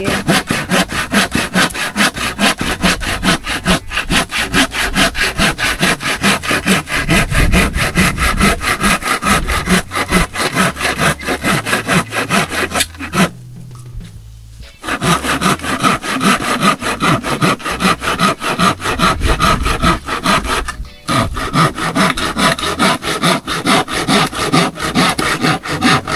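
A hand saw rasps through wood in fast, steady back-and-forth strokes, pausing briefly twice before the cutting resumes, loud and close.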